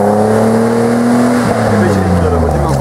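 A Toyota Land Cruiser FJ70 with a 4.0 engine revs hard off-road, a loud close droning roar with shifting pitch that holds steady throughout.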